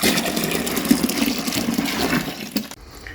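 Almost half a gallon of water pours steadily into a container to rinse it, a continuous splashing rush that runs for a few seconds and cuts off near the end, with no talking.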